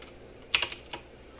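Four quick computer keyboard key presses, the delete key struck in a short uneven cluster, crisp and close in an otherwise quiet room.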